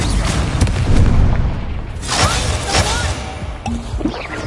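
Incendio fire spell cast in Hogwarts Legacy on PS5, heavy booming bursts and crashing impacts in a loud, busy battle mix, with a fiery whoosh rising partway through.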